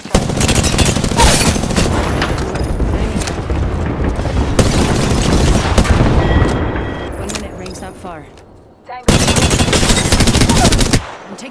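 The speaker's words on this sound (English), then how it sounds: "I'm taking shots." Dense, loud gunfire from Apex Legends combat, with rapid bursts and booming shots running nearly continuously, a brief lull, then another heavy volley, with voice lines over the action.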